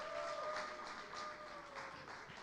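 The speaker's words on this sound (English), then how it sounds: "Please, can we make that applause louder?" Continuous audience clapping in a conference hall at a startup pitch event, a dense, even wash of applause that carries on throughout without a break, with faint background tones beneath.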